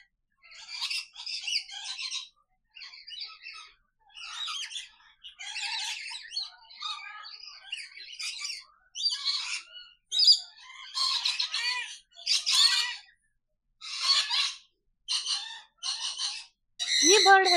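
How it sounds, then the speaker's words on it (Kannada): Birds call in an aviary with hornbills, macaws and parrots: loud, harsh squawks and chirps burst out repeatedly at close range, separated by short gaps, with a final louder screech. "ಫುಲ್ ಬರ್ಡ್ಸ್ ನಾಯ್ಸ್ ಇದೆ, ನಿಮ್ಗೆ ಮಾತಾಡಿದ್ ಕೇಳಿಸ್ತಿರ್ಬೋದು"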